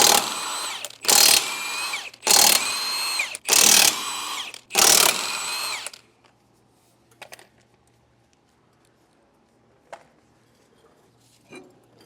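A power tool, likely an impact wrench, fires five loud, close bursts of about a second each while taking a wheel off a trailer axle, followed by near silence with a few faint clicks and clanks.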